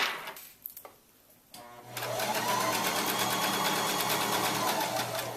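A sewing machine stitches fabric for a pillow, starting after a few quiet seconds with scattered handling noises, then running as a loud, steady, rapid mechanical whir for the rest.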